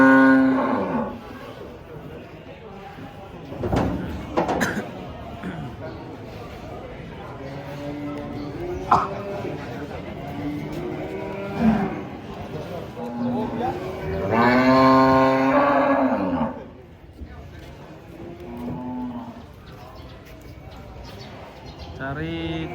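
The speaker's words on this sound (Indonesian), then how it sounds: "Serem ini 2 ekor sapi ngamuk." Two large rampaging cows, one black and red, bellow and moo loudly while being unloaded from a truck, repeated long drawn-out calls over a noisy crowd with people talking throughout.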